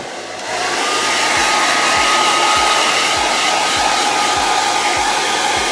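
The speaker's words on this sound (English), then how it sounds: "blow dry it, because we got to get it dry before we put the rooster on." A hair dryer blowing on chalk paste starts up and then runs on as a loud, steady whoosh with a low pulsing whir, close and unbroken, with no voices.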